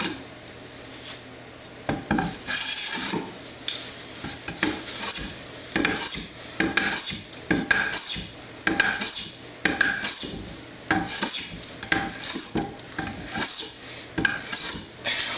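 A hand card scraper drawn across a glued-up wooden board in a workshop, making repeated dry rasping strokes in an irregular rhythm, close and prominent with no talk.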